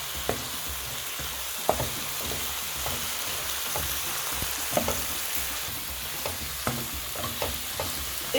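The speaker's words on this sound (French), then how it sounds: "Je mélange." Beef and potato stew with tomato paste sizzles steadily in a pot, a continuous crackling hiss broken by periodic scraping knocks of a spoon stirring the contents.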